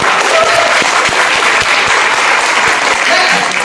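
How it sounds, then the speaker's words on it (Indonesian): Loud applause from a school crowd at a character-building session, thick rapid clapping close by with a few stronger individual claps poking through, sustained for a few seconds. "Tepuk tangan untuk kita semuanya."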